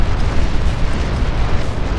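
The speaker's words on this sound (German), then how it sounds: "Oh Gott, die ganze Artillerie-Schüsse!" Artillery shells exploding in the real-time strategy game Supreme Commander 2, a dense, continuous barrage of loud low booms and rumbling blasts that overlap with no gaps.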